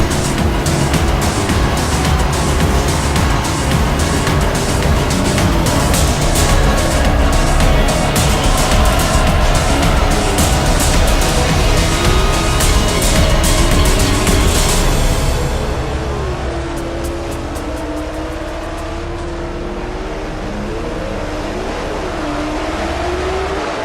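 Cars race through the curves of a mountain road with a loud, dense engine roar and tyre noise that holds steady, then eases to a lower, smoother drone in the final stretch.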